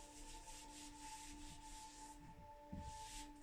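Lines are rubbed off a board with soft, continuous scrubbing strokes, quiet and close, with no talking.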